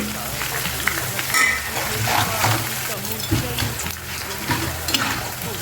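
Green chillies, five cut pieces, frying in hot oil for a coriander pickle, a steady close sizzle with occasional stirring scrapes throughout.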